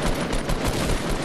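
Rapid bursts of gunfire from a Fortnite match crackle in a dense, continuous volley, loud and close with no pauses across the short stretch.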